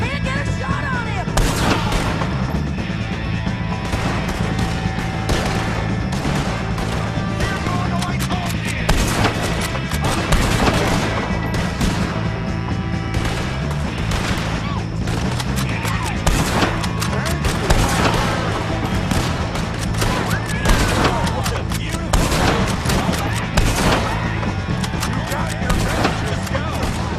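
A sustained Red Dead Redemption 2 shootout during a wagon chase: rapid, overlapping gunshots crack continuously for nearly half a minute, loud and close, with shouted voices throughout.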